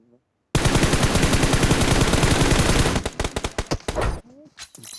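Sustained automatic gunfire in the mobile battle-royale game PUBG Mobile, a loud unbroken burst for a few seconds that breaks into separate sharp shots before trailing off.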